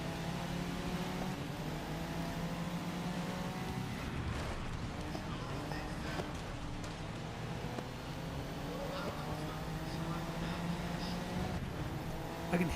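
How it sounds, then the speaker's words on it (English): A Porsche Panamera's V8 engine drones steadily as the player's car passes it in the racing game GRID Legends, with other race cars humming alongside and no talk. "I can hear the Pana's V8 engine as I'm passing it."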